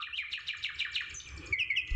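Several birds chirp in quick repeated trills close by, with a second burst of higher calls near the end over faint low rumble.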